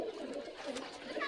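Pakistani pigeon cooing softly at close range, a short low murmuring coo that is faint and alone.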